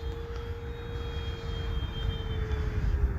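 An FMS P-47 Razorback RC model airplane flies a loop, its motor giving a steady high whine with a faint shifting pitch over continuous low wind rumble, moderately distant throughout.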